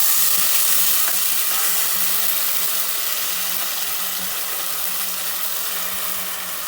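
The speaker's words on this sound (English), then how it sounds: "I'll lower the heat, add the turmeric and the chili powder, and then toss and the puree." Tomato puree with turmeric and chili powder sizzles and is stirred in a pan over lowered heat for a restaurant-style aloo matar paneer, a steady bright frying hiss with faint scraping, close and without voices.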